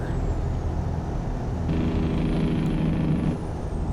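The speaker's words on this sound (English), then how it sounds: "we gotta apply some engine brakes" Truck engine brake in American Truck Simulator, a steady low rumbling drone over a continuous engine hum, with a denser, louder band of harsh growl midway through before easing back, no talk.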